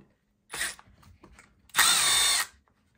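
A power tool drives off the 7 mm wheel nuts on the rear tires of an Arrma Grom RC car, first in a short burst, then in a longer steady high whine, close and loud with quiet pauses between.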